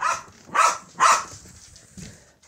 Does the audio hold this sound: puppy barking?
yes